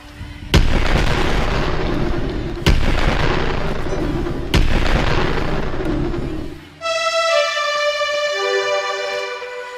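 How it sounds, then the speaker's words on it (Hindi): Thunderous stage sound effect for a Ramlila-style Lakshman–Parshuram scene, three loud booming crashes with long rolling rumbles, then giving way to a bright sustained ringing tone near the end. "ये गगन मंडल में गड़गड़ाहट कैसी?"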